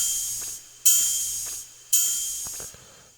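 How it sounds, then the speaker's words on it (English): Open hi-hat sample in a programmed trap-style beat, three sizzling hits each ringing out into a long, bright, fading hiss, moderately loud and alone. "And then another open hat from Misogi."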